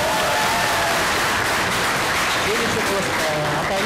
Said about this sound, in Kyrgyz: Анда бир кол чаап коңуздар